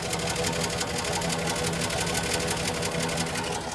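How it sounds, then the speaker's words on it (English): A 1996 Chevy Silverado Z71 idles steadily on its stock exhaust, giving a continuous, even rumble with a fast ticking pulse that holds level throughout, close and fairly loud, with no voices over it. "listen to the exhaust when it's idling"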